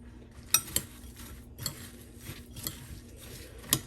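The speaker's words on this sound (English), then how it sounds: "I'm just going to give this a stir again." A spoon stirs a melted mixture in a pot, giving a few sharp clinks and scrapes against the metal over a soft, quiet background hum, close by and without talk.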